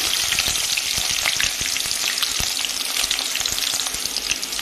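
A large chopped onion fries in hot oil with mustard seeds and curry leaves, making a bright continuous sizzle dotted with sharp crackling pops, close and fairly loud.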